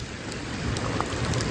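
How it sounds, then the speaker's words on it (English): Heavy rain pouring down in Westchester during a severe January storm, a steady, dense wash of noise with no break and no voices. "It's not the only sign rain is hitting Westchester hard."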